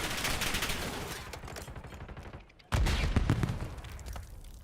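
Gunfire in the Black Ops video game crackles in a dense burst of rapid shots, drops away briefly, then resumes loud and close for the rest of the moment.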